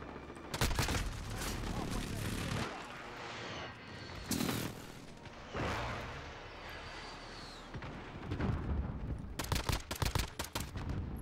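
An Uzi and a pistol fire in Modern Warfare multiplayer, with dense bursts of automatic fire and sharp single shots over ongoing battle noise. The gunfire comes in clusters, and a fast rattling volley closes the clip. A voice talks over part of it.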